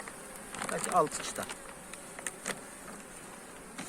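Honeybees buzzing in a low, steady drone close by at an open hive, with a brief spoken phrase over it and some faint handling noises.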